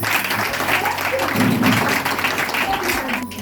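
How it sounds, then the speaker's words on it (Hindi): An audience at a school event for International Women's Day claps in a steady burst of applause lasting several seconds, with a voice speaking over it. "ताली बजा लीजिए एक बार अपने।"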